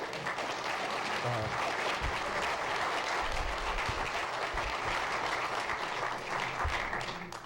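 A crowd at an Indian River County Board of Commissioners meeting breaks into sustained applause: thick, even clapping from many people in a large hall keeps a constant level throughout, fading only slightly at the very end.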